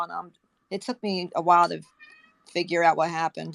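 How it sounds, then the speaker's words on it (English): A cat meows several times in the background while a person talks, the high drawn-out cries rising between and under the speech. "Oh, do you hear the cat in the background?"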